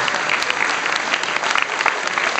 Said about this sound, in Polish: Także warto na stojące być te brawa.